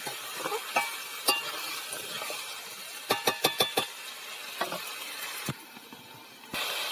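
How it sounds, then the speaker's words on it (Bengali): Kohlrabi, eggplant and potato curry stirred in a pan, with a faint hiss of frying under scattered spoon scrapes and a quick burst of several sharp clanks against the pan, then a quieter stretch before the sizzle returns. "এখন দিয়ে দিচ্ছি স্বাদ মতো লবণ দিয়ে ভালো করে নেড়ে ছেড়ে নিচ্ছি।"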